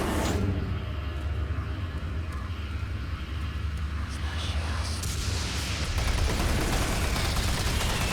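Rapid machine gun fire in Doom 3, a dense continuous stream of shots filling the whole stretch at steady loudness, with low rumbling game ambience and a brighter burst near the end.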